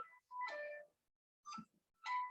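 A mobile phone rings with short electronic tone bursts in a repeating pattern, faint and somewhat distant in a quiet meeting room.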